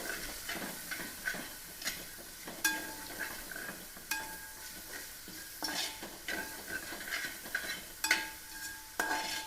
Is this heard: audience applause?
no